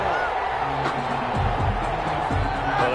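A stadium crowd in the Madden NFL 21 video game roars in a dense, sustained wash after a penalty flag in a Steelers vs Colts game, with a commentator's voice talking over it.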